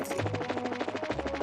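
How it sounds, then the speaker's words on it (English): Rapid, evenly spaced patter of small footsteps on a floor in the video game Trails in the Sky, running quickly over a steady tonal background, with no talking. "I love the sound of the feet on the floor"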